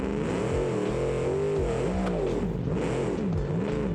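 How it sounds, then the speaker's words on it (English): A truck engine in the BeamNG driving game revs hard and loud, its pitch rising and falling in several quick surges over a steady throaty drone, close and alone without talk. "We're just gonna feel out the engine,"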